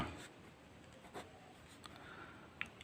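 Pen writing by hand on paper while a maths problem is worked out, a faint, soft scratching with a few light taps, quiet and close, with no voices.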